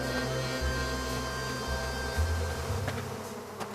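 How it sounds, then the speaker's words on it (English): Continuous droning buzz of bees in the video game Psychonauts 2 over a low hum, steady and close with shifting pitch. "Looks like a great place to get those bees for Compton."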